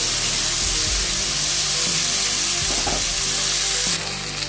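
Drumstick pieces frying in a pan for a mustard-paste chorchori, a dense, continuous sizzle with occasional stirring knocks, close and loud, without talk.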